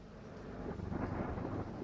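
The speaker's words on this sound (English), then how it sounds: "Man, what a stormy day." A low, rolling thunderclap from a stormy day in a video game rumbles continuously for about two seconds, heavy and close, peaking in the middle with a faint wash like rain beneath it.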